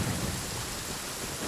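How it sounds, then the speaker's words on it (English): Heavy rain pours steadily with a low thunder rumble in the open-world game Genshin Impact, a dense continuous wash with no voices. "Wow, it just got like really rainy all of a sudden here."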